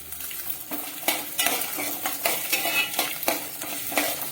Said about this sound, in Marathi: सगळे आता मिक्स करून घेते जिरं टाकलं की लगेच आता मिरची टाकून घेते